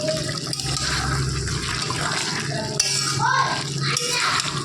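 A spoon stirs mutton curry with whole garlic in a pot, giving close scraping, clinking and wet bubbling sounds in a steady run with no talk.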